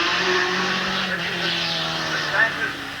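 Race car engines roar steadily at Midvale Speedway during a 1988 stock car race, a loud continuous drone under an announcer's voice on the track PA.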